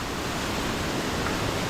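Water pours forcefully at Thirumoorthi Falls, heard as a dense, steady, close roar of rushing water with no voices.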